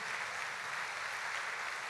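A church congregation applauding steadily, a dense wash of many hands clapping at moderate distance, with no speech.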